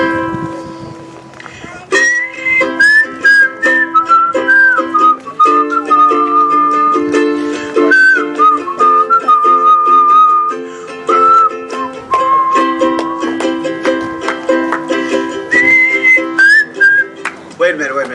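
Loud, sustained whistling of a melody over music, with the tune carried by many whistlers together.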